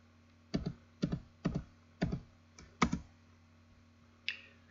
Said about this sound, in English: That in fact is typed by pressing the Y key 4 times.